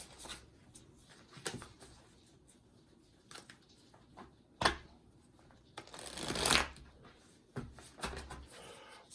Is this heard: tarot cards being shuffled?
yes